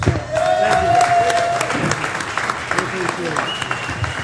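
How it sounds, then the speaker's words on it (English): A round of applause from a group, dense clapping heard under voices and a brief whistle-like tone, fairly close and steady. "One more time, show each other a round of applause."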